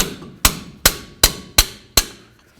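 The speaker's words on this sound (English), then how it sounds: "Now we're just gonna take a little pry bar with our hammer" Five sharp metallic strikes of a hammer on a pry bar while removing front brake parts on a GMC Sierra 1500, evenly spaced about every half second, close and loud with brief ringing decay.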